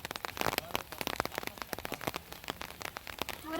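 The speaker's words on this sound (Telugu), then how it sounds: "వాన పడుతుంది, గొడుగు వేసుకుని ఉన్నాం." Rain patters on an umbrella beside the sea near small seaside houses, a dense close run of drops and taps that swells slightly toward the end.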